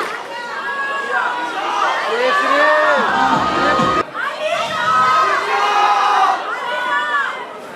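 A crowd at an inter-college youth festival cheers and shouts for performers, with loud overlapping voices, whoops and chatter rising and falling in two swells, briefly breaking in the middle.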